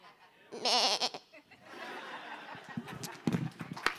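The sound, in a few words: person imitating a goat bleating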